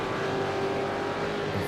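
A V8 Supercar in a racing simulator game accelerates hard in second gear on the Nurburgring GP circuit. The engine roar is loud and sustained, with no voices heard.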